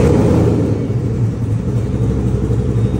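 A Ford Mustang GT500 with a Borla exhaust idling with a deep, steady low rumble, smooth and continuous with no revving.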